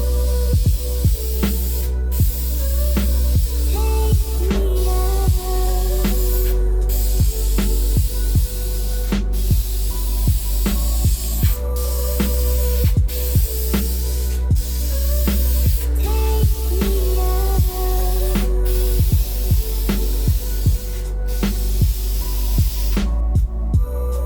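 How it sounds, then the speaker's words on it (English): Gold spray paint going onto a car valve cover for a third coat: a continuous loud hiss broken by many short, regular taps and bursts of the can nozzle, close up and with no talk. "I'm gonna go ahead and let this dry for about 10 minutes and spray on my third coat."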